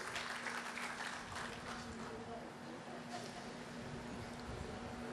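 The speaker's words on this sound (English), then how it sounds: "One more time, a round of applause for Dr. Bengzon." Audience applause at a hospital grand opening ceremony honoring Dr. Bengzon and his family, a steady wash of clapping that holds for several seconds with a faint voice underneath and a low hum.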